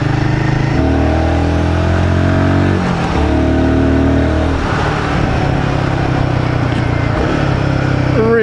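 Royal Enfield Guerrilla 450 motorcycle engine revving up and down in steady surges while riding, loud and close with strong harmonic pitch sweeps throughout.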